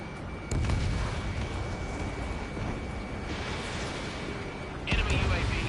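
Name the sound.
missile launch in the video game Ace Combat 7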